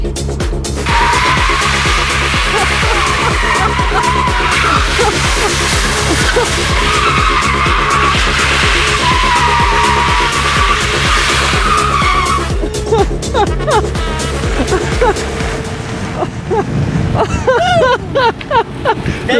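A Tesla spins its wheels hard until the tires smoke, a loud continuous squealing skid with engine-free electric whine dominating for about twelve seconds, then fading into rumbling and scattered noises; no one speaks over it.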